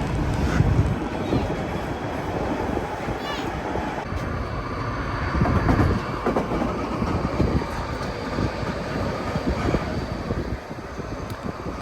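A White Pass Railroad train climbs through forested Alaskan mountains near Skagway, giving a steady, loud rumble and clatter of rail cars with wind noise and no distinct pauses.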